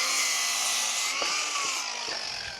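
A power saw cutting lumber to length for rough house framing, a loud steady whining buzz that carries throughout with a few faint knocks as the blade works through the wood.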